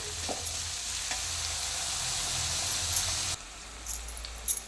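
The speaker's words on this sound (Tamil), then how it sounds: "வெறுசாக எண்ணெயில் போட்டு தான் வதக்கணும்." Bitter gourd sautéing in sesame oil without salt, a steady close sizzle with light stirring that drops off sharply near the end, leaving a few faint clinks.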